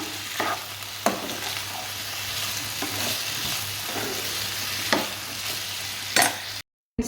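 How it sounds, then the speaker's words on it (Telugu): A potato fry sizzles in a pan, a loud steady hiss broken by several scraping stirs. The sound cuts out abruptly near the end, and no one speaks. "ఇదిగోండి ఇక్కడేమో పొటాటో ఫ్రై కూడా చేస్తున్నాము"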